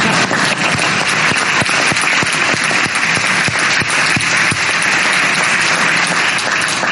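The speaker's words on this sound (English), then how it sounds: "you can give me applause." Dense, loud applause from the legislature audience at Arnold Schwarzenegger's California State of the State address. Crowded clapping fills the room at a constant level from start to finish, with no talking over it.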